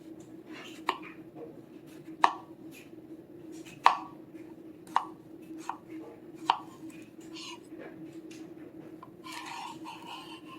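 A knife chops squash into half moons on a board, six or seven sharp separate knocks spaced a second or so apart over a steady low hum, followed by softer rustling.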